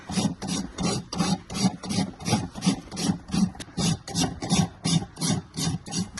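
Wooden trim deliberately roughened so glue will stick: a steady back-and-forth rasping scrape, close and fairly loud, repeating in even strokes roughly three times per second throughout, with no voices.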